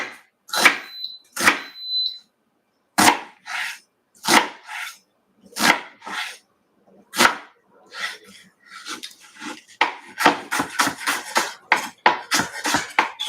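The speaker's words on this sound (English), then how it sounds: "We're gonna chop up this onion." A knife chops an onion on a cutting board in a run of sharp, irregular knocks that speed up into rapid chopping toward the end, close by.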